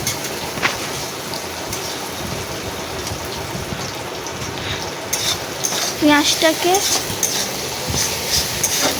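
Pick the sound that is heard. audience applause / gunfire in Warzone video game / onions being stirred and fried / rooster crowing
onions being stirred and fried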